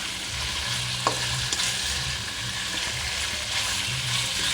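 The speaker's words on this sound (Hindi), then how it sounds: "इसको हमने गोल्डन होने तक फ्राई करना है" Chicken for a karahi fries steadily in hot oil until golden, a continuous close sizzle with faint crackle and a few small clinks of a stirring utensil, no voices.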